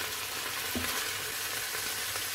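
Onion fries in olive oil alongside seared beef for a beef tagine with prunes, making a dense, even sizzle close by with one sharp knock of a utensil.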